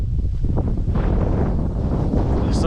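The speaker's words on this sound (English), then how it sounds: "It's crazy windy" Strong wind over a pollinator field buffeting the microphone in loud, low rumbling gusts, continuous and close, with no voices.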